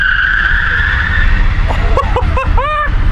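Tire screech from a line-lock burnout on a Tesla-swapped Plymouth, a rising squeal building over steady broadband roar, with brief chirping bursts toward the end, loud and close.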